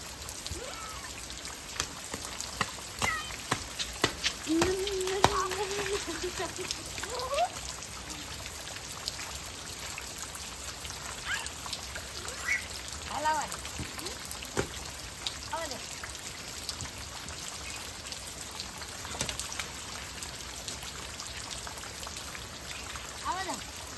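Rain falls steadily with pattering drops and trickling water, while people talk intermittently and a few brief tonal sounds rise over the wet hiss.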